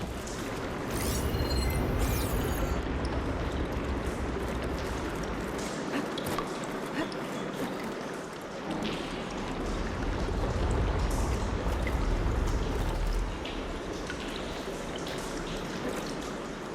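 Rushing water in the video game Horizon Forbidden West flows continuously and loudly, a dense churning stream with splashy surges, steady throughout without voices.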